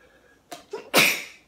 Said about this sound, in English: Oh no, I just sneezed on my hand.